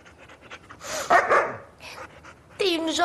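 A female dog pants and gives a short bark up close, with quick breathy huffs and a brief yip near the end.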